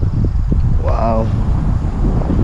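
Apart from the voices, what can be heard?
strong wind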